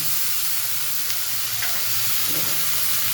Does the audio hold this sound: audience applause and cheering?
no